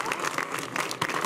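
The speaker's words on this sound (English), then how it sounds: "Give her a round of applause." An audience at a White House bill signing gives Jessica Jackson steady applause, a dense crackle of many hands that holds at a fairly even level throughout.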